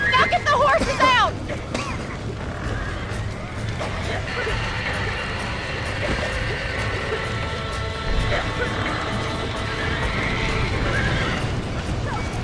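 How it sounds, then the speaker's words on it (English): Horses in the video game Red Dead Redemption whinny sharply near the start, followed by a busy background of hooves, clatter and murmuring voices that runs steadily throughout. "Now get the horses out!"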